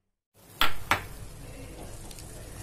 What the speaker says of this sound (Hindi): इसे 2-3 मिनट के लिए हम अपने सारे स्पाइसेस को भून लेते हैं